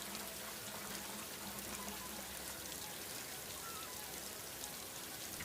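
Steady rain falls continuously with a soft, dense hiss of drops on surfaces, faint and even throughout with no voices.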